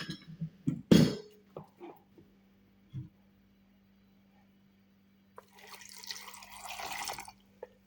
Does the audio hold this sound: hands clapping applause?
no